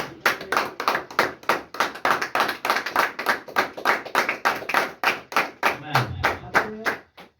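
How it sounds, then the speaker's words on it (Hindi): Rhythmic unison clapping from a church congregation giving praise, about two dozen sharp even claps in a steady beat, close and clear, with a brief low voice near the end. "महिमा की ताली दें।"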